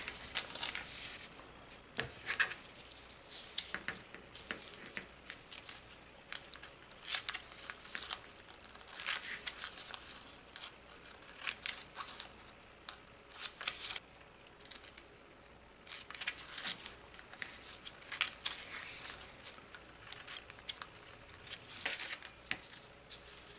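Scissors snip through a paper model rocket parachute with a steady patter of small cuts and crinkles, quiet and close, continuing for over twenty seconds with no voice.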